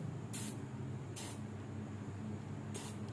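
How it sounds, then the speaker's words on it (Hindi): Aerosol spray hisses in three short bursts onto the AC blower motor of a Suzuki Cultus, loud and close over a constant low hum. "उसके बाद आपने देख लें थोड़ा सा स्प्रे मार लेना है"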